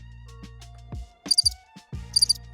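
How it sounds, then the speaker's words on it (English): Crickets chirp in short, bright bursts against near silence in an otherwise quiet wrestling arena crowd, with a few faint low thumps and rustles between the chirps. "Just cricket, nothing."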